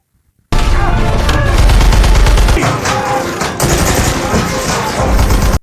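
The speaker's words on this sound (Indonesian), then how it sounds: "kedua belah pihak saling baku tembak" Loud, dense gunfire exchange in a treasure-hunt film scene near a pyramid, rapid overlapping bursts of automatic weapons and booms bursting in after a short silence and continuing without pause to the end.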